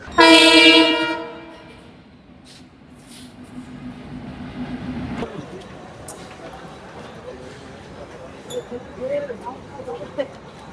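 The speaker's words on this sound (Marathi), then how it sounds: "आता एक पुढच्या पाच मिनिटात येईल आपली ट्रेन" A loud train horn blares at the start, then a moving train rumbles and clatters steadily through a station, with background noise and murmuring voices.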